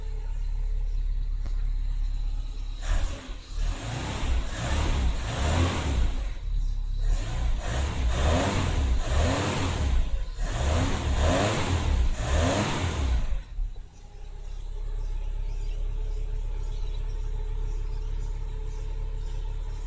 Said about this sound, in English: I'm just gonna give this a little bit of rev